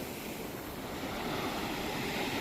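Strong wind roars continuously across the microphone, a loud, broad rushing noise with no pauses and no other sounds standing out.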